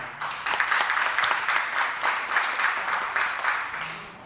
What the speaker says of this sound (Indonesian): Tepuk tangan dulu buat para narasumber kita.